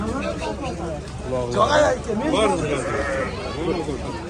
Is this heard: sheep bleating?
yes